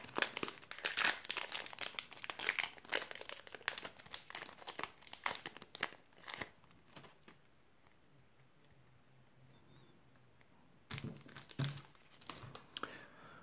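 A Dragon Ball Super Cross Worlds card booster pack is torn open: about six seconds of loud, dense foil crinkling and tearing close up, a quieter stretch, then another short burst of crinkling near the end.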